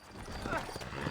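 Horse hooves clip-clop in the Western video game Red Dead Redemption, quiet rhythmic steps heard faintly under someone talking.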